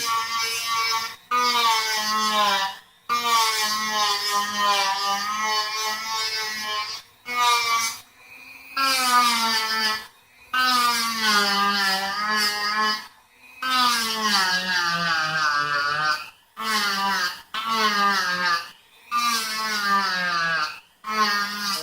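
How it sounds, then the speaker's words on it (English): A high-pitched Dremel rotary tool whine as a sanding drum grinds plastic in long bursts, pitch wavering as the load changes, with short pauses between passes. "I'm going to use a Dremel tool to sand those ones off"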